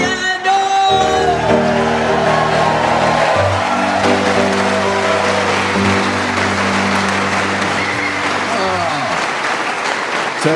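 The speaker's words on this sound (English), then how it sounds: "all the audience here in Exeter clapping along" An audience in Exeter clapping along to a song: loud, steady rhythmic clapping from a large crowd throughout, with a sustained musical tone underneath and a few whoops and shouts.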